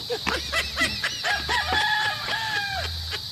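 A gamecock rooster crows several times in quick succession, loud and close on a farm, with clucking fowl and other birds around it.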